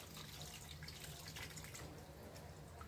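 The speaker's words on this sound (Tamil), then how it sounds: "இப்போ இந்த கரைச்ச புளி தண்ணியை ஊற்றிக்கோங்க" Steady splashing of tamarind water being poured into a pot, a continuous watery rush lasting a few seconds, fairly quiet and close, with no talking.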